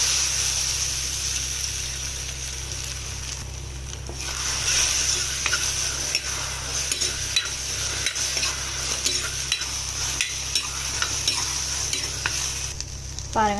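Beaten eggs sizzle in a pan of masala while being stirred for masala egg podimas, a loud continuous close frying hiss with repeated spatula scrapes and taps.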